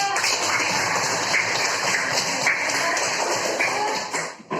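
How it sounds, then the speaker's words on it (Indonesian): A classroom of students claps together in steady, dense applause that holds for about four seconds, then tapers off near the end. "Oke, beri tepuk tangan."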